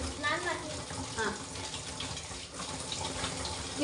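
Water runs steadily from a kitchen tap during cleaning, a soft continuous splash and gush with faint voices in the background.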